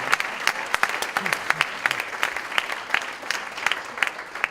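Audience applause for a flute trio from the Marin Symphony Orchestra at a live lobby lounge concert: a modest crowd clapping steadily, with individual claps standing out, loud and close throughout.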